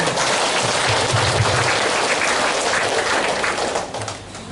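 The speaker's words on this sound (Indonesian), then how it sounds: "Kita tepuk tangan untuk Kelas Mimika" Dense crowd applause for Klasis Mimika at a church women's retreat opening service in Timika, loud and continuous, thinning slightly near the end.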